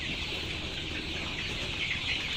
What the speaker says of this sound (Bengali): অনেক ছোটাছুটি করতেছে দৌড়াদৌড়ি করতেছে